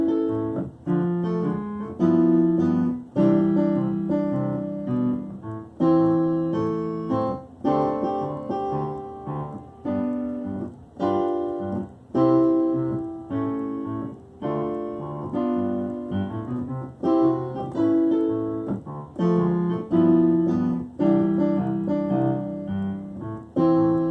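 A piano plays a bass line in the left hand with harmony notes in the right hand, a steady rhythmic pattern of chords and low notes, played alone at moderate volume with no talking.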